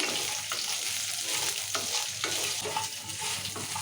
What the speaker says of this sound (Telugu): ఇప్పుడు ధనియాలు వేసాం కదా రెండు నిమిషాలు కలుపుకున్నాను ఇలా